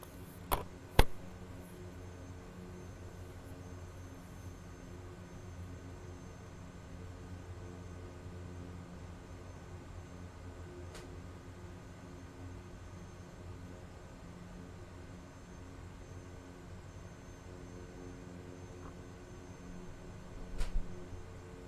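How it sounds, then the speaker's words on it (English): Kodiak 100 single-engine bush plane in a flight simulator, a steady low propeller and engine drone cruising evenly at moderate level, with a couple of sharp clicks near the start and end. "What am I flying? Yes, it's a Kodiak 100."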